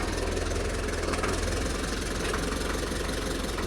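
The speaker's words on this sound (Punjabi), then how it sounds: "ਹੁਣ ਟਰੈਕਟਰ ਨਾਲ ਖਿੱਚਾਂਗੇ ਹੁਣ ਲੱਗੇ ਆ ਖਿੱਚਣ" A tractor engine chugs steadily under load while pulling a large tree with a wire, a loud continuous diesel rumble with a knocking pulse and no talking.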